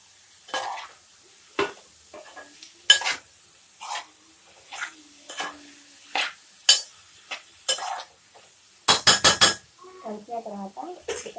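A spoon stirs broad beans into a tomato curry in a metal pot, giving a series of sharp separate scrapes and clinks with quiet gaps between them and a quick burst of clattering near the end.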